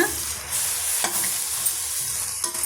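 Coriander powder sautéing in a pan for ladies finger kara kulambu, giving a steady bright sizzle with a few soft stirring scrapes and clicks, close and alone without talk.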